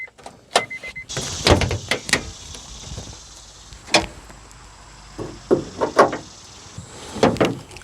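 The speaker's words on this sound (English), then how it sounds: "So to begin with, you want to open the hood." Hood of a 1997-2001 Honda CR-V being opened at home, several sharp metallic clicks and clunks of the latch and release, spaced apart with a quiet pause between bursts, no talking.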